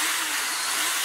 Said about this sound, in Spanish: Tomamos nuestro taladro y empezamos a hacer las perforaciones también de 1/4